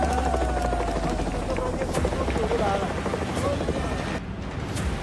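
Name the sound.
army helicopters in flood rescue, Nepal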